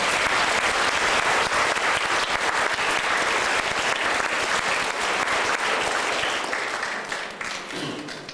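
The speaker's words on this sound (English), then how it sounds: "Can you please give him a round of applause?" An audience in Peterborough, Ontario gives a sustained round of clapping at a gathering, dense and steady before tapering off near the end.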